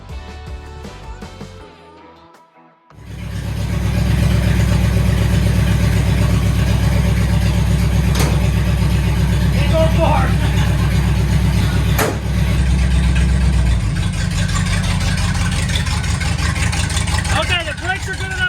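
A truck converted into a Blazer runs its engine, a loud, rough, continuous rumble that starts after a short lull and keeps going steadily close by, with voices heard talking over it.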